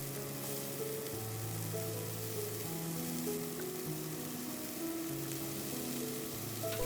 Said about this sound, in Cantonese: 推開雞翼，放椰菜